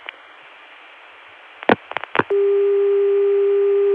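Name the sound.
telephone dial tone through 454 access, 1981 CCSA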